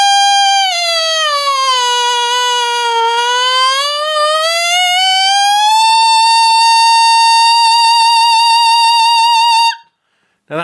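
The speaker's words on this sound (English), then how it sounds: "the next thing to be able to do is to be able to bend that pitch, to be able to glissando around it." A brass mouthpiece buzzed on its own, one continuous loud reedy tone that dips down and then slides upward nearly an octave in a smooth glissando, holding the top note with slight wobble before stopping abruptly.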